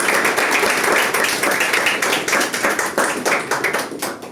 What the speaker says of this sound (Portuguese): Pode aplaudir forte a Deus